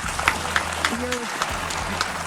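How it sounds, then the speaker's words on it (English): A talk show studio audience claps in a steady wash of applause, with voices speaking over it throughout. "don't even know why they're clapping."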